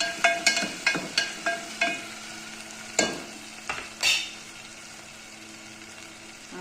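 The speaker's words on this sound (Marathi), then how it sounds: "हे आता आलं लसूणची पेस्ट टाकून घेते। ते बघा चांगलं परतू द्यायचं त्याला पण।" Ginger garlic paste fries in a pan, a steady low sizzle under a quick run of scraping stirs and a few clanks of the spoon, near and moderately loud.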